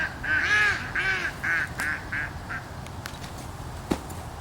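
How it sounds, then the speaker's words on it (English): A duck on a disc golf course quacks nearby, a series of about six loud, nasal calls fading in strength, followed by faint scattered knocks and outdoor background noise. "a duck has spotted the disc and he is approaching for the kill"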